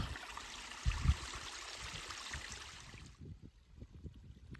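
Faint, steady trickle of water running down a series of small rocky waterfall steps during dry weather, with a few soft low knocks near the start before the water sound falls away.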